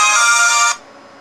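Anycool T728D mobile phone giving off a bright, loud electronic switch-off melody of sustained tones for under a second, cutting off sharply into quiet room noise.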